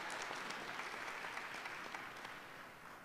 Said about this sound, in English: you can give the board members another round of applause